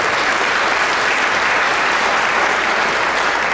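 A Teamsters union crowd at a political event breaks into loud, sustained applause, thick steady clapping filling the room at an even level with no speech over it.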